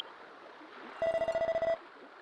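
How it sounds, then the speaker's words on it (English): A harp-like phone ringing in the Dragon Quest X game, a rapid run of bright plucked tones repeating for under a second over a soft ambient backdrop, with no speech. "It's like a little cell phone, but it's a harp."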